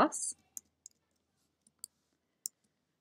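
A computer mouse clicks sharply four or five times at uneven intervals while working in Photoshop, close and crisp against near silence, after a brief bit of speech at the start.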